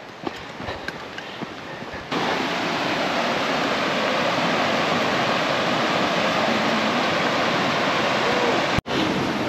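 A waterfall near the Pont d'Espagne in Cauterets roars as a steady broadband rush. Faint footsteps and clicks come first, then the roar grows loud and constant for most of the span.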